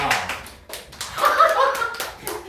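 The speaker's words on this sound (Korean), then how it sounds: "박수 쳐줘야지" Students in a classroom clap together in a short, uneven burst, with children's voices and chatter mixed in at moderate loudness.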